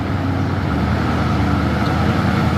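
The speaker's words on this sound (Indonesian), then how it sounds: "Truk trailer Fuso Super Grid kontainer." A Fuso Super Grid container trailer truck climbs the steep Bukit Kodok incline, its engine giving a loud, close, steady low rumble with an even drone that holds throughout, no voices.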